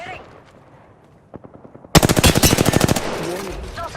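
Automatic gunfire in Call of Duty: Modern Warfare II, first a short burst of distant pops, then a loud, close, rapid stream of shots lasting about a second before tailing off.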